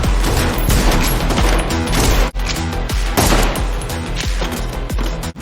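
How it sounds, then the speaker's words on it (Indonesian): Gunfire in a film duel scene, a dense, loud, continuous fusillade of rapid shots and booms with a brief gap partway, no speech. "Eve berhasil menembak lawannya dan lulus sebagai Kikimora sejati"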